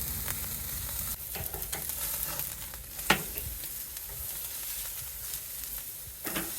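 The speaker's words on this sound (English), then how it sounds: "Barbecue's screaming hot. Really nice crust forming on these. Loads of sizzle." Ribeye steaks sizzle steadily on a hot Weber Summit Kamado grill, a soft crackling hiss with occasional sharper pops, fairly quiet and continuous.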